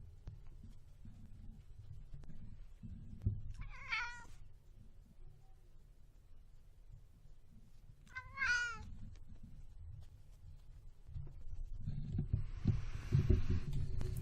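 Two short cat meows a few seconds apart over a low steady hum, followed by a burst of broadband rustling near the end.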